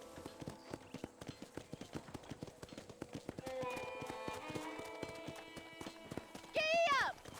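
Horse hooves clip-clop in a steady riding rhythm in the Red Dead Redemption video game, with a voice talking over the middle and a loud, sweeping cry near the end.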